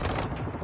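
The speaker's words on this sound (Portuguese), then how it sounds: "Recarregando aqui." Weapon reload in Call of Duty: Modern Warfare 2 multiplayer: a brief run of metallic clicks and mechanical clatter, close and fairly loud, over a dense, noisy game backdrop with no speech.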